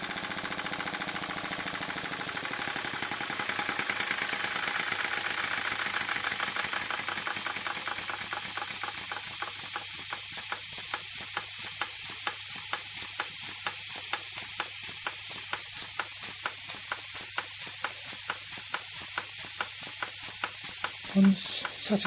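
A small Gaselan DM2 model engine running, a fine rapid ticking beat that settles into a steady even rhythm at close range over a constant hiss, with no talking.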